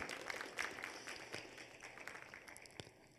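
Faint applause from an audience at a talk about fathers and God, a steady wash of scattered hand claps with a few sharper slaps standing out, lasting the full stretch at low volume.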